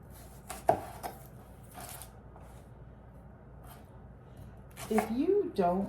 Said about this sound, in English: So we are gonna get our onion diced and ready to go.